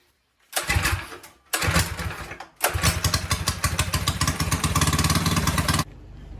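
A mini bike engine with a cheap 24mm carburetor is test fired: a couple of short cranking bursts, then it catches and runs at a close, loud, rapid putter before cutting off abruptly.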